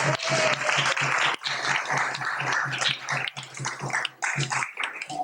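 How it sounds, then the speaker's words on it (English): Audience applause at a Vyasa Puja memorial program in Dallas, uneven crowd clapping that swells and fades with a few louder close claps, heard over a low hum. "So let's give all of us a very big round of applause."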